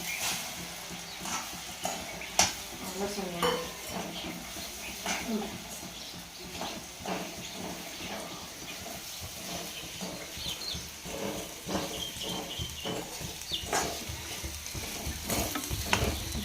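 Puffed rice stirs and fries in hot oil for a kids' chavanu snack, a crackling sizzle with frequent scraping and clattering spoon strokes close by, while people talk over it.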